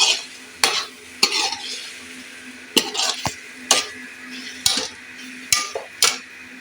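Spiced chicken liver frying with garam masala in a pan, with a spoon stirring and scraping in a steady rhythm of repeated clinks over a continuous low sizzle, close and clear.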